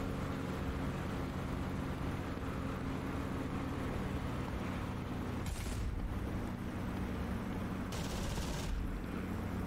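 Machine gun fire from a wingman's aircraft in a DCS flight simulator dogfight between Spitfires and Fw 190A-8s, a dense continuous roar of gunfire under engine drone with two sharper bursts near the end.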